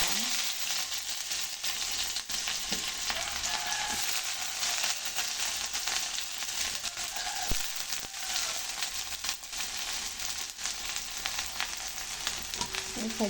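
Sliced onions frying in sesame oil in a pan, giving a steady, close crackle and hiss with occasional stirring scrapes, and no talking.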